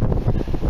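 Wind buffets a microphone outdoors during metal detecting in England, a steady loud rumbling roar that fills the short moment with no other clear sound.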